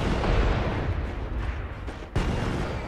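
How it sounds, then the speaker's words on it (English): A rocket launcher fires in the Saints Row 4 video game, a loud, dense blast that roars continuously with a sharp second burst near the end. "Or I can have what looks like to be a rocket launcher."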